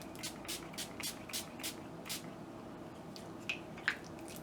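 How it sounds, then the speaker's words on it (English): Repeated short hissing bursts of a turquoise gloss spray can over paper, about seven quick sprays in a row, then a couple of sharper hisses after a pause. "Just spray that over the whole thing."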